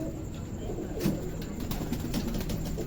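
Soft pigeon cooing nearby under a constant background hiss, with a few faint clicks and rustles scattered through.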